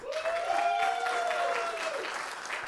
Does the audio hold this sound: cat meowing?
no